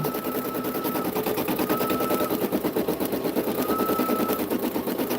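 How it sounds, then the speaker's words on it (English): An embroidery machine runs a placement stitch for an appliqué muzzle, a fast, even, rattling needle pulse that continues unbroken and fairly loud throughout. "now we're stitching the placement stitch for the muzzle"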